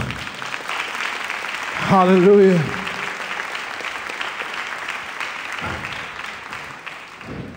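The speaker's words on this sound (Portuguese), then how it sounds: "Se você crê nisso, aplauda o nome do Senhor." A church congregation claps during a worship training session, a continuous spread of applause beneath a voice calling out briefly, the clapping thinning toward the end.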